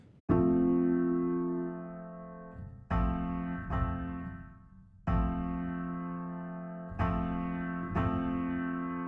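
Ambient piano chords struck one after another, each ringing out with a loud resonant tone and slow decay, close and alone.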